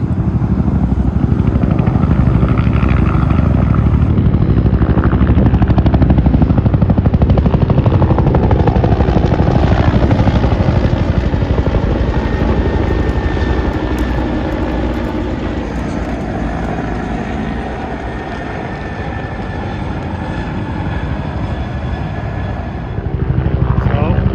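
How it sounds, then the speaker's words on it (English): A pair of Huey helicopters fill the air with broad rotor roar, loud and steady as they pass overhead, easing slightly then swelling again toward the end. "And we got some helicopter traffic coming in. What's it gonna be? It sounds like a Huey."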